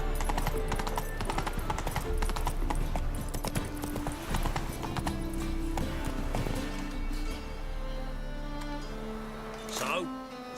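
Roach, the horse in The Witcher 3, gallops with a steady stream of clip-clopping hooves running under background game music and ambience, with a brief sweep of another sound near the end.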